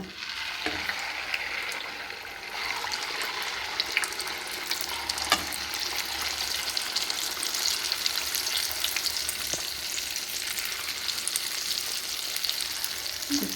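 Food frying in a pan for a breakfast recipe gives a steady sizzle that runs through the whole stretch, with a few faint clinks of stirring over it and no voices.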